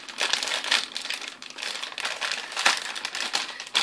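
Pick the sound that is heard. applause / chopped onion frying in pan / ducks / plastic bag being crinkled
plastic bag being crinkled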